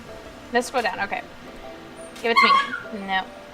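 A young puppy eager to play with a cat gives short yips and barks and whimpers in bursts, close by and mixed with a person talking.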